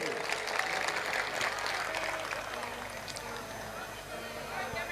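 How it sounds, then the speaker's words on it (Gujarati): A live audience at a comedy show in Surat applauds with a dense, steady clatter of clapping that holds for several seconds. A voice is heard faintly underneath. "એકવાર બાવાશ્રીને પણ જોરદાર તાળીઓના ગગડાટથી વધાવીએ"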